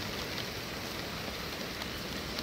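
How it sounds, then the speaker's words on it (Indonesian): Heavy rain pouring down over a city, a steady dense hiss of drops hitting surfaces, constant and fairly close, with no voices. "Suatu sore, hujan deras mengguyur kota."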